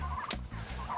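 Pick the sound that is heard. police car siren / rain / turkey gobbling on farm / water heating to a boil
turkey gobbling on farm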